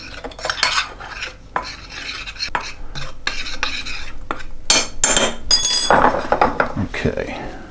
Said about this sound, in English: I'm going to mix this all together.